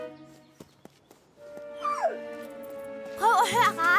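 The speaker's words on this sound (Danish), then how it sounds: "Det er en hund. En redderhund." A cartoon rescue dog whimpers and yips in rising and falling cries, starting after a short stretch of quiet background and growing louder toward the end, with no talk over it.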